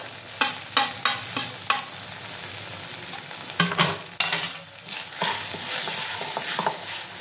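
Potato and capsicum sautéing with black pepper in a pan for egg pasta: a steady sizzle runs throughout, broken by several sharp spatula scrapes and stirring clatters, close up, with no talking.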